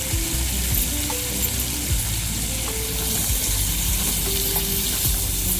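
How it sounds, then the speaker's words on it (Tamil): Pirandai (veld grape) and tomato sauté in oil in a pan, a continuous bright sizzle with occasional stirring knocks and scrapes underneath, steady and close, with no voices. "பிரண்டை தக்காளி ரொம்ப நேரம் வதங்கினா தான் நல்லா வேகும்."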